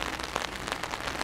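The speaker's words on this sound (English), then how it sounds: "watching the rain" Rain drips onto peach and other trees in a garden on an autumn morning, a soft, close patter of scattered drops over a steady wet hiss.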